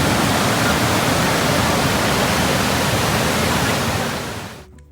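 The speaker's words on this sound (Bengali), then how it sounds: "নদীর স্রোতের যা আওয়াজ তাতে আর কিচ্ছু শোনা যাচ্ছে না" The river current at Bindu in the Dooars roars loud and close, a thick, unbroken wash of rushing water that fades away at the very end.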